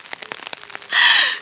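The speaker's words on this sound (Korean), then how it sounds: "날씨 예보가 갑자기 바뀌어가지고 분명 비가 안 온다 그러는데 갑작스럽게 비가 와서" Rain begins pouring at a seaside campsite at Daecheon Beach in Boryeong during the mud festival, a dense steady hiss that swells suddenly after a few scattered patters and stays loud and close.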